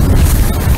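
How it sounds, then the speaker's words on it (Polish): Steady, loud cold wind buffeting by the water while fishing, across the whole clip, a low rumbling roar with gusty texture and no voices. "ten wiatr jest taki zimny"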